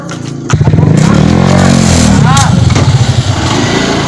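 A motorcycle engine starts up and revs close by, a loud continuous rising and falling buzz with brief talk at the start.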